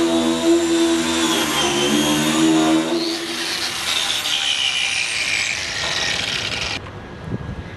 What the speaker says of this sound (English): I'm now going to turn that on, and you'll see a little bit about what we can do now with a Twistknot cup brush